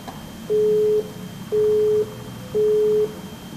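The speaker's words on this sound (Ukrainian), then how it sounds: "Та за мить зв'язок обірвався." A telephone busy signal sounds after a call is cut off. Three identical steady beeps, each about half a second long, repeat in an even rhythm with short gaps, clear and loud over faint line hiss.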